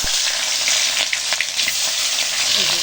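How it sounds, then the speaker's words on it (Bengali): Sarpunti fish rubbed with salt and turmeric fry in hot oil in a wok, giving a steady, close, loud sizzle with scattered crackles and pops throughout, with no talking. "আমার কড়াই গরম হয়ে গেছে, তেল দিয়ে মাছগুলো ভেজে নেব"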